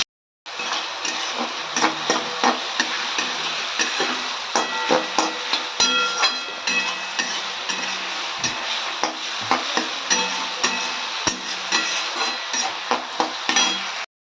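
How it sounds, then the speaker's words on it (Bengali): Sliced onions frying in hot oil in a kadai for chicken biryani, with a continuous loud sizzle broken by repeated scrapes and clinks of stirring, no voices. "কড়াইতে তেল গরম করে করব বেরেস্তা।"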